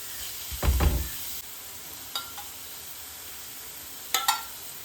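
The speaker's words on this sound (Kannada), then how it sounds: "ಸ್ವಲ್ಪ ಸುತ್ತ ನೀಟಾಗಿ ಆಯಿಲ್ ಸ್ಪ್ರೆಡ್ ಆಗೋ ಥರ ನೋಡ್ಕೊಳ್ಳಿ, ಆವಾಗ ಬೇಗ ಸೀದೋಗಲ್ಲ. ನೀಟಾಗಿ ಫ್ರೈ ಆಗ್ತದೆ." Chicken keema vada frying gently in oil over a low gas flame gives a faint, quiet sizzle, broken by a few brief louder crackles and a soft clatter near the start and end.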